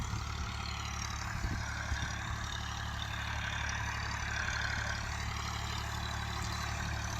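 A Fiat 480 tractor pulls a cotton planter across a field, its engine droning steadily and close with a low, even rumble throughout and no voices.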